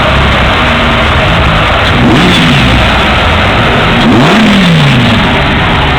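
A Bugatti Veyron engine revs loudly and close, a dense roaring drone with two sharp rising and falling rev swells.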